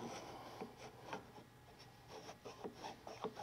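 A marking gauge lightly scribes lines on a wooden tails board for a houndstooth dovetail: faint, quick scratchy strokes repeating at short intervals, close up and with no talk.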